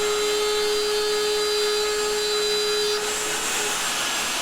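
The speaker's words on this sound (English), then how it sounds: "here I'm just using the same router setup, and I'm going at it again, just trimming off the excess" A router trims off the excess of a tapered wedge glued into a water-damaged teak cabinet. It makes a loud, steady high-pitched whine with a constant tone, and the pitch of the cutting noise shifts slightly partway through.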